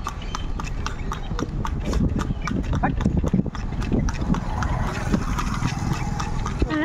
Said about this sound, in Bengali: টুমটুম করে যাচ্ছে কি সুন্দর আওয়াজ হচ্ছে বল ঘোড়াটা পায়ে